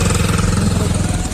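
A motorcycle engine runs on a hill road near Nagaon, Assam, with a loud, close, steady throbbing drone and no break in the sound.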